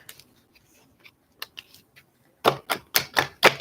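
Thick archetype cards being shuffled: a few faint taps and riffles, then a quick burst of five sharp snapping flicks close to the ear.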